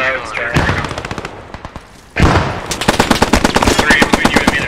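Rapid automatic gunfire strafes the ground in the World War II shooter Post Scriptum, loud and close, with a rattling burst, a brief lull, then a longer sustained volley.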